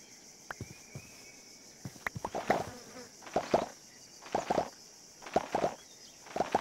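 Bees buzz in the Minecraft video game, with repeated short, close buzzing bursts that rise and fade in a loose rhythm, along with small clicks and pops and no talk.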